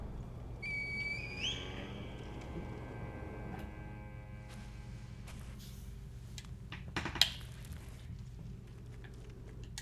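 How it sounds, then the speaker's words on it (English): A reed whistle blown in the Sekiro video game gives a steady whistled tone that bends upward early and then fades over soft ambient game sound, with a sharp click near the end. "You're going to come over here and you're going to blow the reed whistle."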